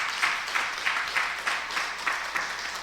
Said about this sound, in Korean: 우리 박수 한번 하시고요